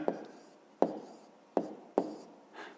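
A pen writes out a simplified maths expression on paper for a fifth-grade exercise, giving four or five short, faint scratching strokes in a quiet room, with no talking.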